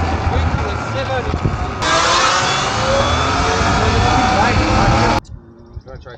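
E-Ride Pro SS 2.0 electric bike pulling away at full throttle: a loud, steady high-pitched whine that jumps in intensity partway through and holds, then cuts off abruptly to quieter ambient noise.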